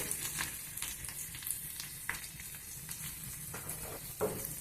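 Curry leaves and green chillies crackle in hot oil, a faint, continuous sizzle with scattered sharp pops and spits, close but quiet, without any talking.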